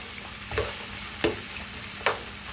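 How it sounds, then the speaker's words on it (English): Onion and celery sautéing in a pot, a low steady sizzle broken by three brief stirring scrapes spaced about a second apart, close and moderately quiet with no talking. "an onion and some celery in here. And I'm just trying to saute it."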